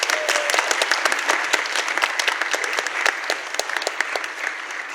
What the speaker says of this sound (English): Please stand up and everybody give him a round of applause.